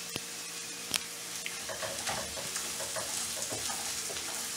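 Curry leaves dropped into hot oil with sautéing onions for a brinjal fry, a steady close sizzle with a sharp crackling pop as they hit and light stirring scrapes.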